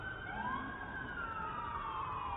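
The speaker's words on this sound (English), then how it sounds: "You hear the sirens?" A wailing emergency siren rises and falls over a steady rumble of New York City traffic, heard at a moderate distance with no talking.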